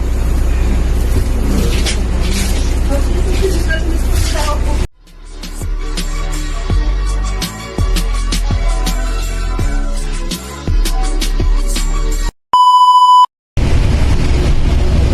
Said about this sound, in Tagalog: Ayan, nandito tayo sa loob ng bus.